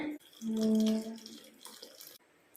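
Mutton bone broth is poured into a pot of rasam, a steady close liquid stream that rises in pitch as it fills the pot for about a second, then settles into quieter sloshing and trickling.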